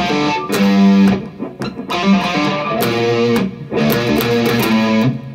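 Electric guitar tuned to drop D, with the top string lowered two semitones, plays the intro of Foals' The Runner: distorted, effects-laden picked notes and chords in a driving rhythm, close and loud with no voices.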